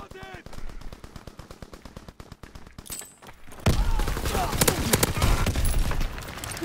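Gunfire in the World War II shooter Call of Duty: WWII comes as rapid rhythmic bursts, then heavier dense volleys and explosions grow louder and closer, with a voice briefly heard among the shots.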